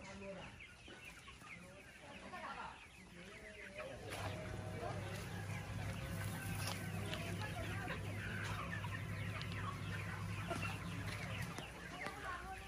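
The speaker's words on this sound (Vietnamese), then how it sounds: "Bà con nhà thấy đấy, gà rất là nhiều luôn." Many chickens cluck and chatter on a crowded chicken farm, a dense, continuous flock noise with a steady low machine hum joining partway through and someone talking over it.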